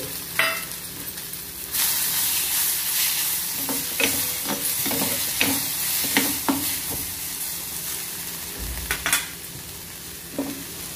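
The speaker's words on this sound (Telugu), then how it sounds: "ఇప్పుడు ఇందులోనే టమాటోలను వేసి కొంచెం మెత్తబడేంత వరకు మగ్గించుకోవాలి" Tomatoes sauté in a hot pan until soft, giving a continuous loud sizzle broken by irregular scrapes and clinks of a spoon stirring, with no voices.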